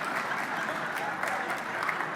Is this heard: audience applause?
yes